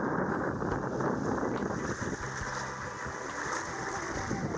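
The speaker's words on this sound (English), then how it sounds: "That wind." Wind roars loudly and steadily across the microphone aboard a sailboat, with a broadband rush and the low wash of water beneath it, and no talk.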